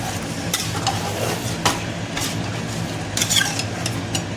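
Chicken biryani ingredients with chicken, green chilli, tomato, potato and yogurt being stirred in a pot, scraping and clinking of a spoon against metal in irregular strokes over a low continuous sizzle, near and moderately loud with no talking.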